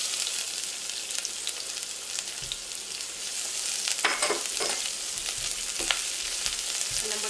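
Garlic and onion sauté in hot oil in a pan for a beef stew, giving a steady, moderate sizzle with a few brighter crackles and soft stirring scrapes partway through.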